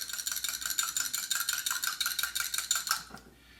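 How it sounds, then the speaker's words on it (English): Rapid rhythmic whisking of a thick dressing in a bowl, a quick metallic clicking beat of around a dozen strokes per second that stops near the end. "Then what we do, whisk this again."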